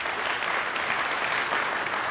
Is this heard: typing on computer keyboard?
no